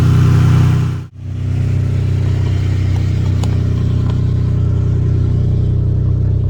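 A Dodge Journey engine runs at close range during an alternator test, cutting out briefly after one second and then settling into a steady, loud idle hum with faint clicks.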